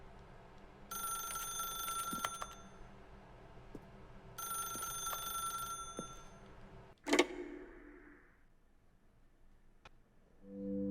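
A phone rings in The Stanley Parable game, with two long trilling bursts of electronic ringing, each a couple of seconds, separated by a short pause. A sharp clunk follows, and then near-silence.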